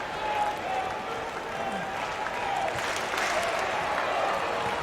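Crowd applause and murmur at a US Open fourth-round tennis match, Borges versus Medvedev, a steady moderate wash of clapping and crowd noise with a faint tone running underneath.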